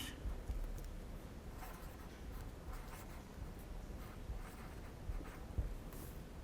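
Pen or pencil writing on paper during a special-education Turkish lesson, a steady faint scratching that runs continuously at low level with small strokes and no talk over it.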